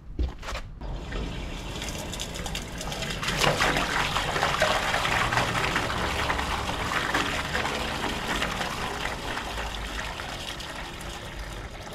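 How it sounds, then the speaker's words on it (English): A toilet is flushed with toilet paper into a drain that was just unblocked, with a loud, steady rush of water flowing and swirling down the pipe for several seconds. "I'll go flush some toilet paper down there and we'll check it out."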